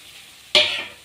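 Grated tomato and ginger hit hot oil in a pan with a sudden loud sizzle that starts midway and slowly fades into a steady hiss, no talking.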